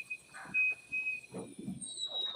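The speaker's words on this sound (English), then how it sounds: "the tea kettle was whistling for 5 minutes" A thin, high, steady whistle like a kettle runs continuously at low level beneath scattered soft noises.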